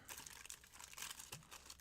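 Baseball trading cards are shuffled by hand, giving a quiet, close run of soft crinkling flicks and riffles that lasts under two seconds, with no speech.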